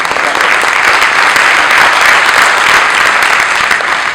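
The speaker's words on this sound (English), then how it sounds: "Thank you for your clapping" Audience applause after a BIM user group presentation, a dense, steady wash of many hands clapping that fills the whole stretch at close, even loudness.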